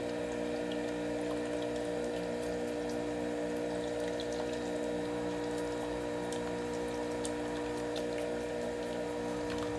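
Juice drains steadily from a large juicer strainer being agitated, a constant soft trickling and gurgling wash under a faint machine hum, even and continuous throughout, with no talk.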